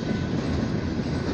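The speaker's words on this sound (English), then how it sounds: "This whole train is definitely military." A military train rolls past in Tulsa, Oklahoma, a steady low rumble of wheels and cars, constant in level and close by, with no voices.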